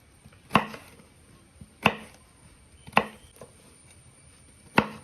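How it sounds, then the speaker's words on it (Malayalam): A knife chops pickle vegetable pieces into small bits on a board: four sharp, distinct chops spaced about a second apart, close and clear in a quiet kitchen. "ഇതുപോലെ ചെറുതായിട്ട് അരിഞ്ഞെടുക്കുക."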